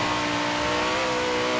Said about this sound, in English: This is rapid acceleration, man. Absolute rapid.